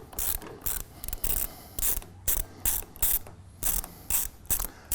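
Rapid ratchet wrench clicks loosen a belt tension bolt, coming in quick bursts of sharp metallic ratcheting with brief pauses between strokes, close and clear with no talk.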